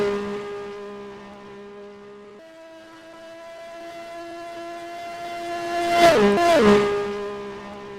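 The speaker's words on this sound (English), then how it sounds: "The American driver in the number 78 for Juncos, coming across the stripe, starting lap number" Chevrolet-powered No. 78 Juncos IndyCar on a qualifying lap at the Indianapolis 500, its engine a steady tonal whine that swells loudly and bends downward in pitch as it sweeps past, then fades.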